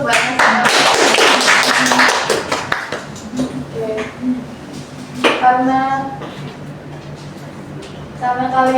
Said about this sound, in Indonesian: tepuk tangan dulu untuk Mbak Nasa